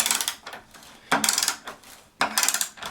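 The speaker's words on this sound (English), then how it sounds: "now we'll tighten this 11/16 bolt up, just like that." Ratchet wrench tightening an 11/16 bolt on a cedar chair, three bursts of rapid clicking separated by short pauses, close and crisp.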